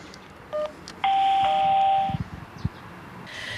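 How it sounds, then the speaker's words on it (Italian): An electronic doorbell at a villa in San Zenone degli Ezzelini sounds a short beep and then a sustained tone of about a second. A few soft thuds follow, with quiet outdoor background. "Abbiamo provato più volte a suonare al campanello della sua villa"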